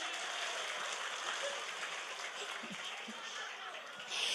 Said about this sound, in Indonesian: Tepuk tangan maning